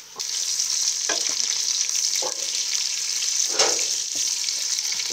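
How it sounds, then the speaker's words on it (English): Steady sizzling of onions frying in a pan, with occasional stirring scrapes and clatters over the constant hiss. "we're just frying up Paul's onions"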